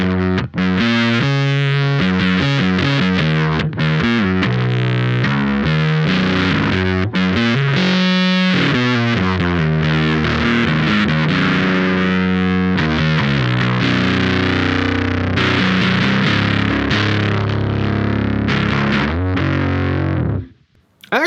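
An electric guitar plays through an Electric Love pedal with the sustain set all the way down, giving a fairly clean but slightly driven tone in steady chords and riffs that end abruptly.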